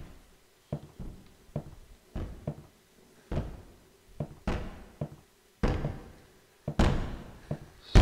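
Repeated banging in Apartment 666: hollow, thudding knocks land one after another at irregular intervals, some soft and some heavier, like fists or objects striking a door.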